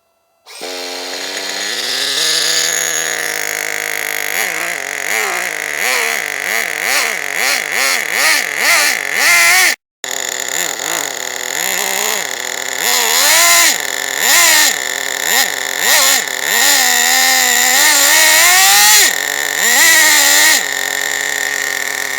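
Nitro glow engine of a Team Associated RC10GT radio-controlled car starting and running: a loud, close, high-pitched buzzing whine that revs up and down repeatedly, cuts out briefly, then restarts and keeps screaming.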